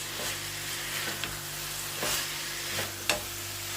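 Chicken and peppers cooking in a pan while being stirred, giving a steady sizzle and occasional soft scraping strokes, with one sharper knock near the end and no voices.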